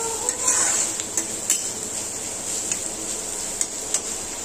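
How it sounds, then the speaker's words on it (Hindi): Onions frying in a pan while being stirred, a steady close sizzle under repeated scraping and clinking of a utensil against the pan, with no talk. "तो प्याज को ब्राउन होने तक भूनेंगे।"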